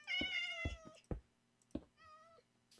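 Several cat meows from the Minecraft video game, a run of four to five clear calls with short gaps, then a softer trailing meow, close and with no talking.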